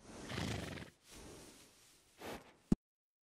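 A horse in Red Dead Redemption 2, a Thoroughbred, whinnies in two long bursts with a pause between, ending in a sharp snort or hoof click, loud and close with no talking.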